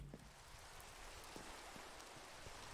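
Rain falls in Minecraft as a soft, steady hiss of droplets with occasional faint patters, quiet and unbroken across the moment with no voices.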